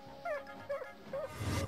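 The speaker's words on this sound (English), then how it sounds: "how does a dog even get up a tree? Yeah, keep barking, buddy." Dog stuck up in a tree, a few short high yelping barks and whimpers in quick succession, moderately close, over a light background.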